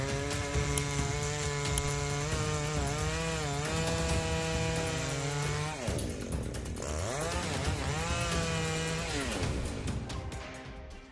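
A big chainsaw with a roughly two-metre blade cutting through an ancient tree trunk high up, its loud engine whining steadily, dipping briefly under load midway, then revving back up and continuing close and dominant.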